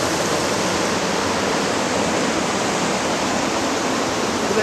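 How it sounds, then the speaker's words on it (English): Small waterfall in Killarney National Forest, Ireland, on an overcast winter day, pouring as a steady, loud, broadband rush of water that holds unbroken throughout with no voices. "There's a little waterfall right in Killarney National Forest."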